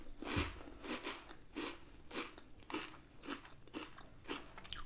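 Crisps eaten alongside an egg mayonnaise baguette, with about nine sharp crunching bites and chews in a quick irregular rhythm, close and clear with no talking.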